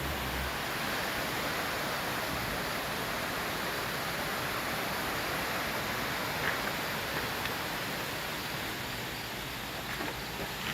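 Water rushes steadily down a stream in a mountain valley, a constant, fairly loud broadband wash with no voices over it.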